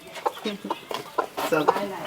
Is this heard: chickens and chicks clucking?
yes